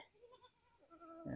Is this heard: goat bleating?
yes